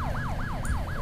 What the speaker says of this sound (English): You can see the police cars go by.